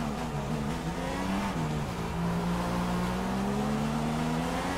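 Formula 1 car engine in the F1 2016 racing game, a loud continuous high whine whose pitch dips and then climbs steadily as the car accelerates to overtake in a corner.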